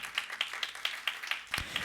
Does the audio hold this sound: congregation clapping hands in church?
yes